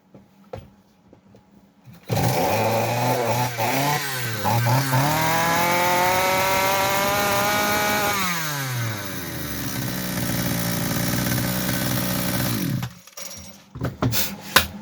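A Kitprom petrol chainsaw sputters with a few clanks, then catches and runs loud and close for about ten seconds, its engine pitch climbing and falling as the throttle is worked, before cutting out to scattered knocks.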